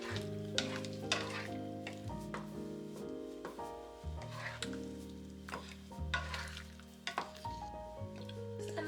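Shrimp and sauce for linguini sizzle quietly in a pan with a soft steady hiss and a few wet crackles. The sound sits faint under prominent background music.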